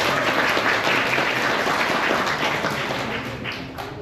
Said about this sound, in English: Very good, let's clap for him.